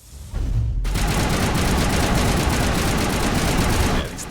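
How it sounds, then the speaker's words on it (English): Sustained rapid gunfire roars in Mass Effect, a dense, loud, continuous burst lasting several seconds before cutting off, with little else audible beneath it. "Ash is encouraged to shoot people, as you can see"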